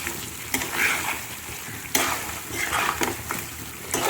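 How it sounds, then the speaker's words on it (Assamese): Duck meat and onions frying in a wok, a loud close sizzle broken by sharp scraping strokes of a spatula against the metal every second or so, with no talking. "মাংসখিনি ভজা হৈয়ে গৈছে। এয়া পিঁয়াজ গলি গৈছে"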